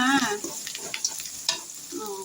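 Onions sauté in a pan with ginger garlic paste, giving a close, soft sizzle broken by brief scraping stirs and light clinks, with no talking.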